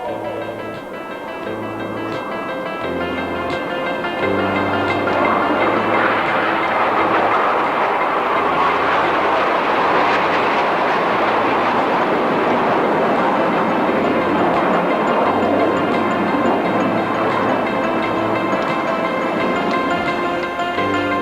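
Nine-plane aerobatic jet team roaring past during a bomb burst maneuver at the 1986 NAS Moffett air show; a loud, continuous broadband roar swells and holds for the whole stretch, with no talk.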